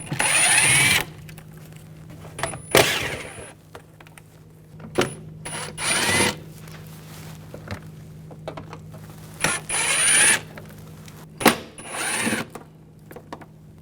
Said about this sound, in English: Using a T25 socket, I'll remove these screws.